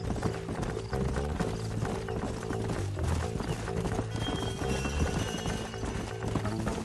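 Horses gallop in the Red Dead Redemption video game, their hooves drumming a rapid, steady clip-clop rhythm alongside a snort or whinny, loud and close over a continuous game soundtrack.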